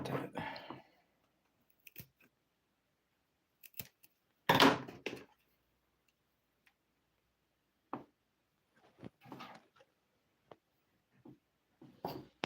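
Scissors snip an arrowhead plant apart for propagation. A handful of quiet, scattered cuts and clicks are separated by stretches of near silence, with one louder snip in the middle.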